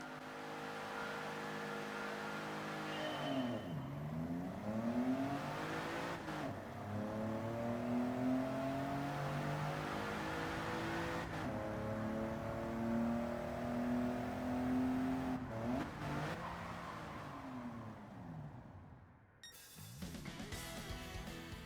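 A car in a Gran Turismo 7 license test revs hard from launch, the engine note climbing and dropping through repeated gear shifts in a loud, continuous run, then cutting out briefly near the end.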